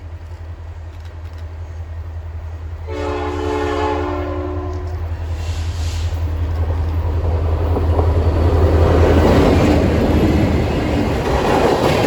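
A CN freight train on the Iron Range near Ramshaw rolls past with a heavy low rumble, and a loud, sustained multi-tone horn blast starts a few seconds in. The rumble of the wagons grows louder toward the end.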